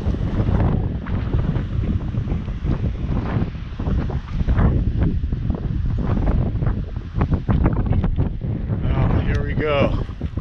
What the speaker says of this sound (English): Solid wind for a week.